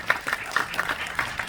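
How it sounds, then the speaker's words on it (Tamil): Scattered applause from an event audience, a few distinct claps and light clapping spread over a short moment, fairly quiet. "அவருக்கும் பலத்த கரகோஷம் கொடுங்க இந்த நேரத்தில்."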